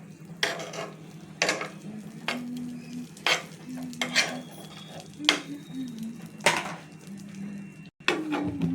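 Butter heats in a hot sandwich mould on a gas stove. A low, continuous sizzle lies under repeated scraping and spreading strokes against the metal, with a faint hum behind.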